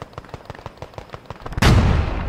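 Gunfire in the Post Scriptum war game: a rapid string of sharp shots, about a dozen in quick rhythm, then a louder heavy blast that rumbles and fades, with no talk over it.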